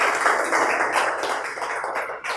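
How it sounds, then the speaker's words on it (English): An audience at a motivational talk on resourcefulness bursts into steady, dense applause, fairly loud and continuous throughout without talk over it. "Can we have a round of applause for that?"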